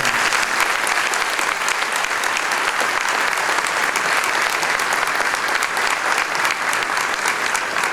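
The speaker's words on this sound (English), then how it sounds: "Let's give them a great round of applause." A full, steady round of applause from an audience at an award presentation for schoolchildren, dense and continuous from start to finish with no voices over it.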